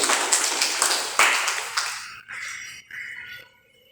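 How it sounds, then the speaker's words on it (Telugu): Applause from an audience at a book launch event, a dense burst of clapping that starts loud and fades out over a few seconds. "మీ అందరి చప్పట్ల కోరు."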